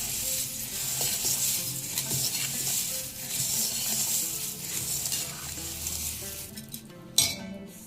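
Churumuri ingredients being smashed and mixed in a bowl, a continuous scraping, rustling stir of puffed rice with seasoning, steady and close, ending in a brief louder clatter.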